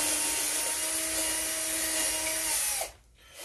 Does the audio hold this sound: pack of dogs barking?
no